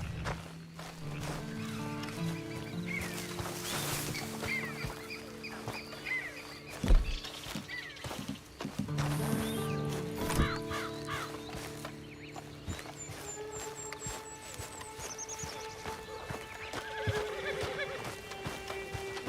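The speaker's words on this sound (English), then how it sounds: "And you better get on this horse." In Red Dead Redemption 2, a horse whinnies loudly several times while its hooves clip-clop at a walking pace, with thuds and faint birdsong in the background and a steady game soundscape throughout.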